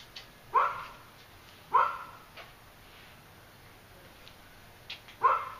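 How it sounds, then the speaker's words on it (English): Three sharp barks from a dog at a moderate distance, spaced a few seconds apart, against a quiet background. "neighborhood dogs are barking at somebody"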